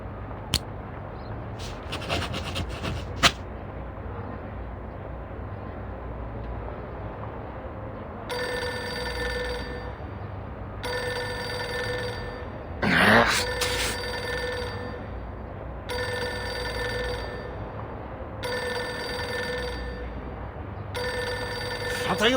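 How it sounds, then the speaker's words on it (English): A telephone in the video game Reverse: 1999 rings in repeated evenly spaced bursts of a bright electronic bell, loud against a low ambient game hum, with a few sharp clicks and a brief swell partway through. "Pick up the phone already."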